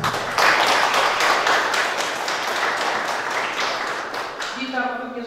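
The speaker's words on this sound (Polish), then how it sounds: "Wielkie brawa" Crowd applause at a book presentation event honoring a guest, dense steady clapping that fills the room and fades near the end as a voice begins speaking over it.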